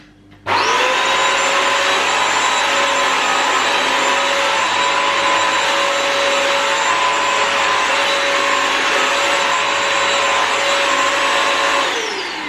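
A Bissell carpet cleaner's vacuum motor switches on and runs with a loud, steady high-pitched whine, then starts to wind down at the end.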